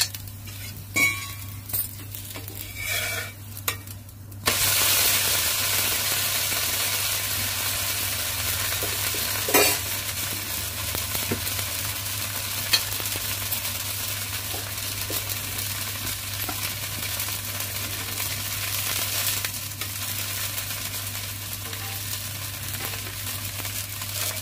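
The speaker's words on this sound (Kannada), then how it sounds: "ನೋಡಿ ದೋಸೆ ಹಾಕಿದ ಮೇಲೆ ಎಣ್ಣೆ ಹಾಕಿದರೆ ಈ ರೀತಿ ಆಗುತ್ತೆ." A ragi dosa made from ground batter sizzles loudly on a hot pan right after oil is poured onto it, a sudden steady hiss that holds close and continuous, with a few small clicks and utensil taps over a constant low hum.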